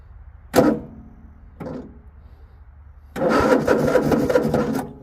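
A Craftsman T8000 lawn tractor engine cranks in two brief, loud attempts, then catches and runs with a steady, close, rumbling idle for the rest of the clip.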